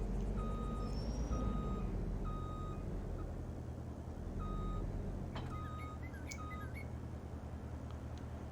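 A truck in a video game backs up with a regular series of electronic reversing beeps over a low engine rumble, followed by some brief squawking and whistling tones.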